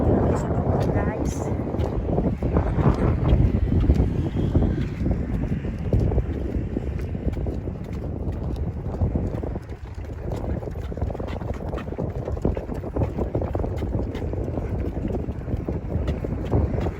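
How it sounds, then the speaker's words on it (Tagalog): Strong wind buffets the microphone at a hilltop summit, a steady loud rush and rumble throughout with people talking over it. "ang lakas ng hangin dito guys"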